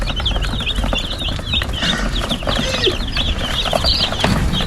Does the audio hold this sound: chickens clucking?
yes